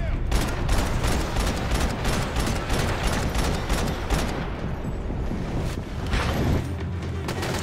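Heavy sustained gunfire from the video game Max Payne 3, a dense loud fusillade of rapid shots and booms running throughout with no pauses.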